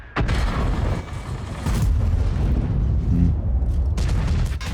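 Heavy artillery and cannon fire from World of Tanks during an IS-7 heavy tank match, a dense run of deep booming blasts layered together, loud and continuous throughout with a short lull near the middle.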